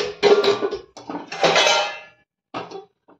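A freshly washed kadhai clanks and scrapes against the stove as it is set up for cooking, with several metallic bursts close by followed by a pause and a last short clatter, no talking.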